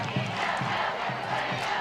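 A homecoming high school football crowd in the Cooper stands makes a loud, continuous roar of voices, with rhythmic chanted bursts rising and falling.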